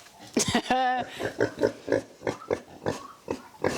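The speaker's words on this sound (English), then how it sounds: "So here's crispy bacon and Chops, the two resident pigs." Pigs in a barn oink and grunt, with one sharp, drawn-out squeal standing out near the start, all mixed with a person talking nearby.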